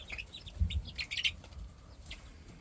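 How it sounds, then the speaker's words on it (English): Soft chirps and peeping from Serama chicks about three months old, with a few low clucks from a hen, faint and close against a quiet background. "here are the Serama chicks"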